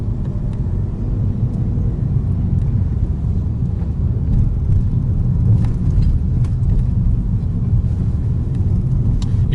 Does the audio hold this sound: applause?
no